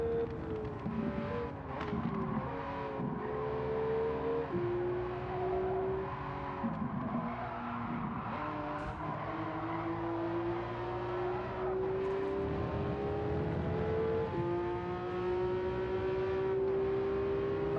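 A Porsche race car in Gran Turismo 7 holds a steady high engine note that climbs through gears with brief dips at shifts. Other cars are faintly audible in the background, and no one speaks.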